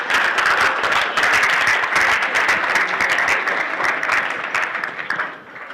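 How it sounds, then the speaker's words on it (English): A room full of students at a hackathon kick-off breaks into loud, dense applause that holds steady before thinning out at the end. "Let's give all of the new hackers in the room a round of applause."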